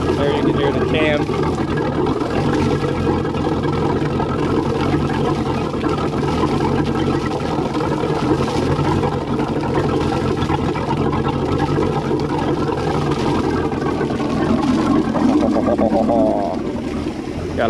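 A 1991 Malibu ski boat's Chevy 5.7L 350 engine idles with a lopey cam, a loud, continuous low rumble with an uneven loping pulse, while someone talks over it.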